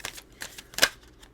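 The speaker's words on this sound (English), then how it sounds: "I'll do 3 shuffles and then I'll take the top card" Tarot cards are shuffled by hand in a few quick riffling bursts, with one sharper slap in the middle and light, close rustles between.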